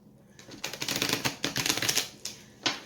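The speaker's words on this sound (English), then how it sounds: "I'm going to shuffle these one more time" A deck of cards is shuffled in rapid riffling bursts, crisp fluttering clicks in two or three quick runs, close and fairly loud.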